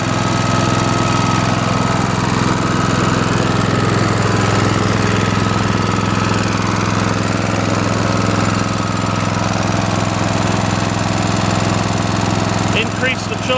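A PE75 generator engine runs steadily nearby, a loud continuous mechanical drone with a low hum and rough knocking texture throughout, with a brief clatter near the end.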